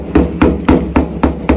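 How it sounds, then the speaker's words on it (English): A ball peen hammer strikes staples flat six times in a steady, fairly quick rhythm while replacing a Ford Model A top, each blow sharp and close with a brief ringing tail, no voices. "coming back with my great-great-grandpa's ball peen hammer"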